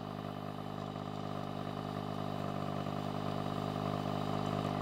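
A boat engine idles steadily during a soapy freshwater flush after a saltwater trip, its even mid-pitched hum and faint clatter continuing unchanged throughout.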